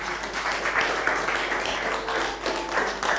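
An audience at a local community evening applauds to welcome a guest onto the stage, with steady, dense clapping that holds for the whole stretch and swells slightly in places.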